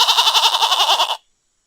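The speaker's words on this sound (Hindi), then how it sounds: "उसी जंगल की पहाड़ी के नीचे डिम्पी नाम की एक बकरी रहती थी।" A goat bleats in a loud, close, wavering call with a rapid pulsing vibrato lasting about a second, then cuts off abruptly into silence.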